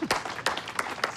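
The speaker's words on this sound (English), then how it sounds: "let's give him a big hand" Sparse audience applause in a film scene: a handful of scattered, separate claps at a moderate distance, thin and brief rather than a full ovation, with no voices over them.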